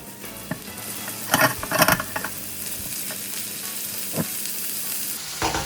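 Chopped tomatoes hit a pan of frying ginger-garlic mixture for vegetable oats upma, giving a steady, close sizzle with louder splattering bursts and stirring scrapes throughout.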